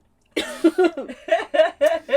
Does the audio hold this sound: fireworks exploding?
no